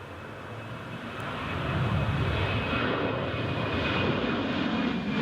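A TUI airliner takes off from Newcastle International Airport, its engine roar a broad, steady rumble that swells over the first couple of seconds, then holds loud and constant with no talking.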